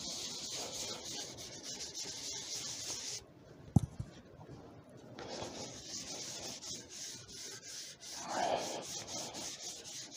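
A turned wooden bowl is polished with Yorkshire Grit abrasive as it spins on a lathe, giving a close, continuous rubbing hiss that breaks off briefly partway through and then resumes, with no talk.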